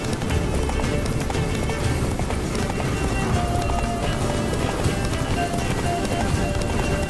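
Hooves of the horse Roach clip-clopping at a steady run in The Witcher 3, a loud, continuous rhythmic gallop close up, with faint game ambience underneath.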